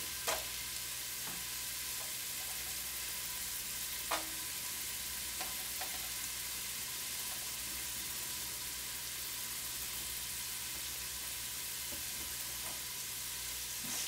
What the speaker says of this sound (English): So I'll go ahead and put in the carrots.